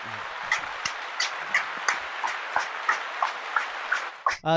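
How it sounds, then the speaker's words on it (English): Slow, rhythmic handclaps, roughly evenly spaced, a few people clapping at close range with no talking, ending in a brief burst of noise. "Give a round of applause for that."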